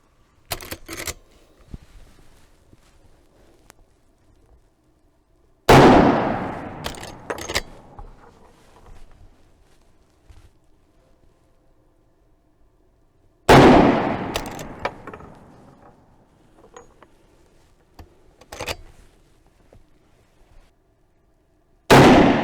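Rifle shots from a 1959 Marlin 336 lever-action in 35 Remington with microgroove rifling, fired outdoors: two loud, sharp reports with long decaying echoes, roughly eight seconds apart, plus fainter clicks and handling knocks between them.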